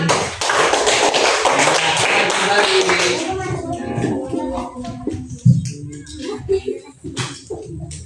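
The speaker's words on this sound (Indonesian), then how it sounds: "Betul, tepuk tangan." Classroom applause from students after a correct answer in a lesson, a dense burst of close hand clapping that thins out after a few seconds into scattered claps, shuffling and voices talking.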